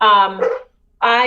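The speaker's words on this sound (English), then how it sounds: "I just have my dog barking." A pet dog barks loudly and close by at home during a town council finance meeting held remotely, two sharp barks separated by a brief silence.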